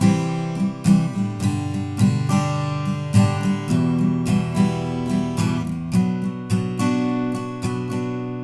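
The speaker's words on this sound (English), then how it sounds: "When things start picking up a little bit, you can add a strumming pattern." Acoustic guitar strummed in a down, up, up, down, up pattern for the chorus of a song, with steady rhythmic chord strokes repeating closely and loudly with no talking.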